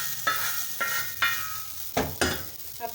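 Hot tadka tempering poured into cooked daal on a stove sizzles in several sharp bursts, each flaring loudly then fading, with stirring between them and no voices.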